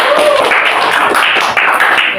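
A group of students in a classroom counselling session claps hands together, a loud, steady, close patter of applause lasting about two seconds.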